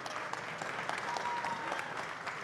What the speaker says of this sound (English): Big hand of applause for Ali Akhmedov.